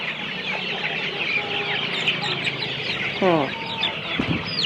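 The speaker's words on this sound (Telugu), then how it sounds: "ఇది కడక్నాథ్ కోడి పిల్లలుగా" Kadaknath chickens and chicks at a poultry farm cluck steadily, with several overlapping calls and a few louder squawks standing out from the busy flock chatter.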